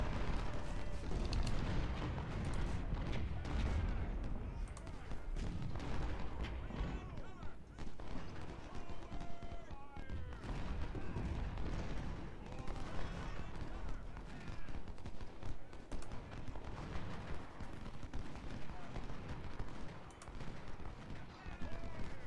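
Massed artillery and rifle fire in the Civil War strategy game Ultimate General: Civil War, a steady rumbling battle din of booms and crackling volleys, with someone talking over it throughout.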